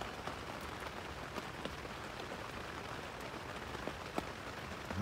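Heavy rain pours steadily onto a tarp rain fly over a winter overnight camp shelter, a dense continuous hiss with scattered sharper drop impacts close by and no voices.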